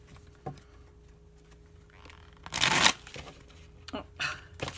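Tarot deck being shuffled by hand indoors, with a few light flicks and then one loud riffling burst near the middle, followed by shorter card rustles.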